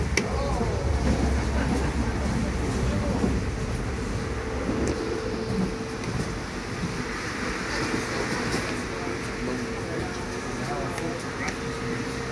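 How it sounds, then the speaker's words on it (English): A Thameslink train heading for Bedford passes on the Southeastern line near Greenwich, a steady broad rumble of wheels and motors running the whole time with voices faintly audible beneath it. "A Thameslink service en route from I think it's Brighton or Gatwick Airport to Bedford."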